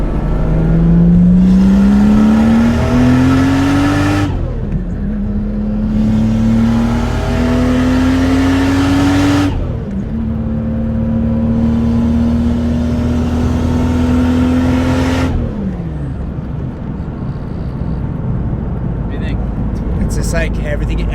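A Ford Mustang fitted with a 2JZ engine revs hard on a dyno, climbing through three long pulls with gear changes, each rising in pitch before dropping off, close and loud throughout.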